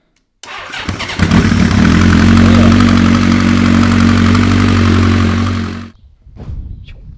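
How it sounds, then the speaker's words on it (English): A Honda CB motorcycle engine fires up after a brief crank and settles into a loud, steady, close-up idle that runs for several seconds before being switched off, with no talking. "Pull the choke, petrol is on. Starting."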